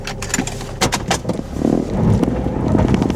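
A car sits idling at a stoplight, a low steady engine rumble with scattered clicks and rattles in the cabin, growing slightly fuller toward the end.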